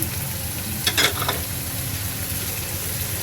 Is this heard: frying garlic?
yes